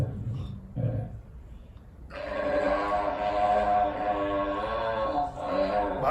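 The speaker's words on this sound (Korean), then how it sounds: "이 물개 소리입니다." A seal's drawn-out, voice-like vocalization serves as a film creature sound effect for Mickey 17, rising after a short pause into a loud, sustained harmonic bellow that wavers and continues to the end, preceded by brief low grunts.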